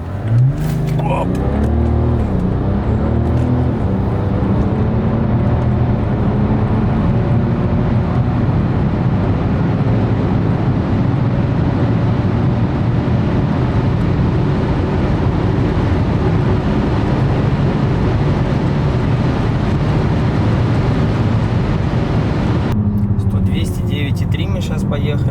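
A diesel-swapped BMW M5 pulls hard through a 0-100 km/h run, its engine drone loud and close and rising in pitch, while people talk inside the car.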